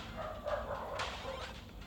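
Several dogs bark and yip faintly in the background of a quiet indoor room, a few short yelps bunched together, with no speech.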